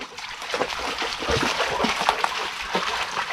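A dog splashing through a small stream, with close, irregular wet splashes and sloshing that continue steadily throughout.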